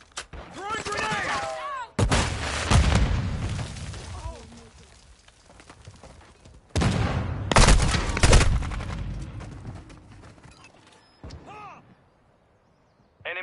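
Call of Duty match on the Shipment map: repeated heavy gunfire bursts and booming grenade explosions, loud and dense, with in-game voice callouts and radio chatter mixed between the blasts.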